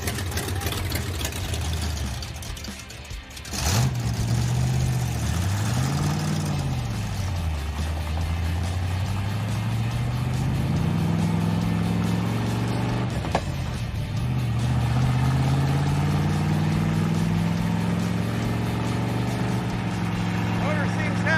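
A 1966 Buick Special engine running close by, a steady low rumble that rises and falls as the revs are blipped and held, with a sharp clack near the start and people talking faintly beneath it.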